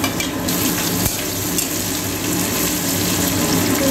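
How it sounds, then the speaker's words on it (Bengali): Cauliflower, potato and capsicum fry in a pan while the cauliflower florets are added back in, giving a loud, steady, close sizzle with a brief clatter of stirring near the start. "এবার ফুলকপিগুলো আবার দিয়ে দেওয়া হচ্ছে"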